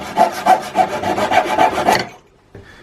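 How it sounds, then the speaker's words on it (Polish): Rhythmic back-and-forth rasping of a Japanese pull saw cutting wood, about eight strokes in quick succession, close by, then stopping with a faint scrape after. "A to jest piła taka z Lidla, taka tak zwana japońska"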